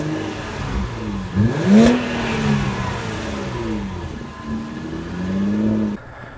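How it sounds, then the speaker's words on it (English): A 2018 Infiniti Q50 3.0t Sport with a 300-horsepower twin-turbo V6 revs at idle, giving a few rising and falling engine sweeps with one sharper blip, heard close and alone. "the gorgeous twin turbocharged V6 producing 300 horsepower. And it sounds decent."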